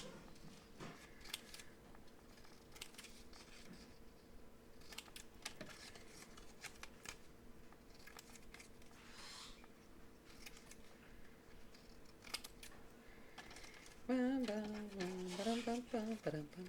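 Scissors snip paper into corner tucks for a Heartfelt Creations Wild Poppy mini scrap album, giving quiet, sparse cuts spread through the stretch, with a voice talking near the end.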